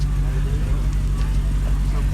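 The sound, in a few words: car pulling up at car show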